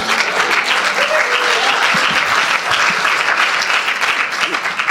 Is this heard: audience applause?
yes